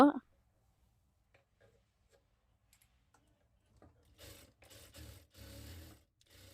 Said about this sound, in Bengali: এটাকে একটা মেশিনে সেলাই দিয়ে দিব।